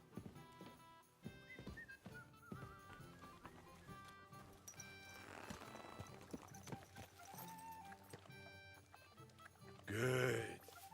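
Rhythmic clip-clop of horse hooves in Kingdom Come: Deliverance 2 runs under game music and effects, with a loud burst of noise near the end.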